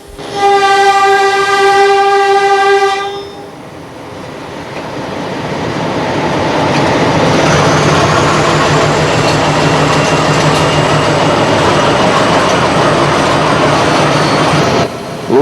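A loud, sustained train horn blasts for about three seconds near Ranfurly, Central Otago, then the heavy rumble and clatter of the passing train builds and continues steadily.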